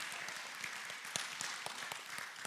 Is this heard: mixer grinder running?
no